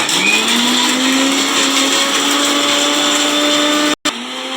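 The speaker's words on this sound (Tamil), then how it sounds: "வெறும் நைஸாக அரைச்சி எடுத்துக்கோங்க" A mixer grinder grinding coconut whirs loudly and steadily at high speed, cutting off abruptly near the end before briefly starting again.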